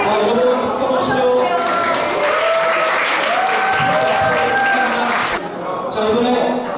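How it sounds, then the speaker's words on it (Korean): Guests at a golf CEO course graduation trip in Sriracha, Thailand clap for the best dress award winners, a lively burst of applause mixed with voices and a few tonal sounds, easing briefly near the end before picking up again. "여러분 박수 한번 치죠"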